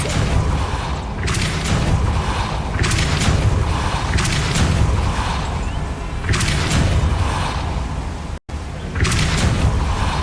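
A Depulso spell cast in the video game Hogwarts Legacy, heard as a run of loud booming whooshes, about five bursts at a steady pace over a dense game soundscape, with one brief dropout near the end.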